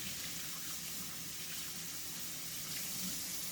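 Water runs steadily from a kitchen sink faucet, a constant hissing splash into the basin with no talk, heard close and even throughout while someone cleans the counters and sinks.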